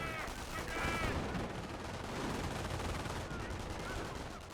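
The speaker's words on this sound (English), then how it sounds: "They do get suppressed by the base MGs." Machine gun fire in the real-time strategy game Company of Heroes, a dense continuous rattle of bursts layered with distant battle noise throughout.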